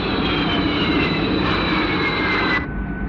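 Jet aircraft flying in an animated TV episode: a loud, steady roar with a high whine that holds for about two and a half seconds before a sharp drop in pitch and level near the end, with no talking over it.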